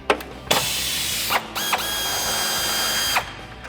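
Bursts of a power tool, likely an impact wrench, whirring and rattling in several pulls to remove the quad shock from a 1994-2004 Ford Mustang, loud and close with no talking.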